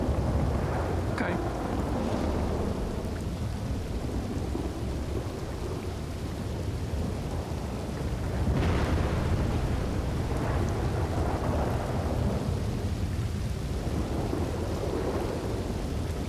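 Heavy rain pours steadily in a dense broadband roar while rolling thunder rumbles low and swells several times through a thunderstorm.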